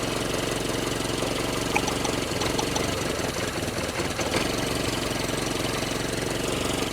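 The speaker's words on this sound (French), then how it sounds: "on a eu une baisse du régime moteur" A car engine runs in a steady, rough, close drone during a spark plug test, its revs dipping slightly partway through, with no voices.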